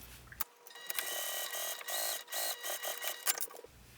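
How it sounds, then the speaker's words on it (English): Sewing machine top stitching along a seam about 1/8 inch from the edge on a fabric pouch, a fast steady mechanical whir with needle clatter running continuously for several seconds, loud and close with no talk. "I'm going to top stitch right along the seam I just sewed."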